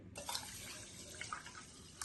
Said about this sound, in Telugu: ఇలా రెండు సార్లు బియ్యం కడిగేసుకున్న తర్వాత అండి వాటర్ మూడు కప్పులు వాటర్ పోయాలండి